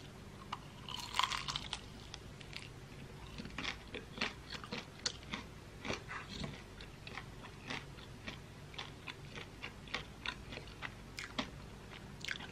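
Close-up crunching of crispy food, a steady run of sharp bites and chews repeating for several seconds with no talking.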